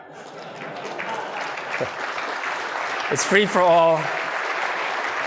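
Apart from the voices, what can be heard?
keynote audience applause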